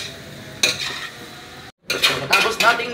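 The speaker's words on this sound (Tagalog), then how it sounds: "Atin lang ikiwar-kiwar at halu-haluin mga idol." Metal utensils scrape and clink against a cooking pot as home-cooked food is stirred and mixed, irregular close scrapes with a brief pause midway, faint sizzling underneath.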